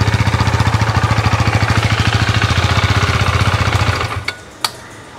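A KTM 390 Duke single-cylinder motorcycle fitted with a K&N air filter idles with a steady, loud, rapid exhaust pulse close by, then cuts off near the end, leaving a couple of faint clicks.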